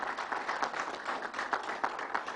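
An audience at a New York Islanders arena announcement gives a dense round of applause. Many hands clap steadily at a moderate distance for a couple of seconds, with no voices.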